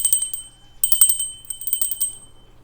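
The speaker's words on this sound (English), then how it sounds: "So I have a bell," A small hand bell is rung to cleanse a space, giving bright, high metallic rings in two bursts of rapid shaking with short decays, close and clear with no talk.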